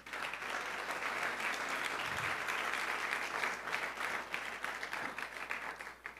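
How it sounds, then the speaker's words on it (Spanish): A church congregation claps in sustained applause for several seconds, a dense, even roar of many hands that stays fairly constant, with faint voices underneath. "Dale un aplauso bien fuerte al Señor."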